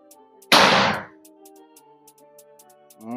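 A single sharp air rifle shot from a Sanaji Albarra Emperor Sphin X 5000 PSI cracks out loud and close, its burst fading quickly into a quiet background with faint tonal hum.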